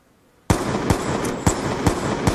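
Gunfire in a video game: rapid repeated shots burst in suddenly after a quiet moment, then continue as a loud, dense crackling volley with regular sharp cracks.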